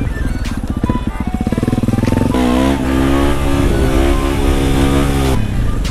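A supermoto motorcycle engine revs hard while riding, a loud steady mid-pitched drone that climbs in pitch partway through and holds high before easing off, close and continuous with no talking.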